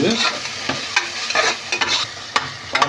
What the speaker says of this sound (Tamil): இஞ்சி பூண்டு நல்லா பச்சை வாசம் போகிற வரைக்கும் கிண்டிக்கிட்டே இருக்கணும்.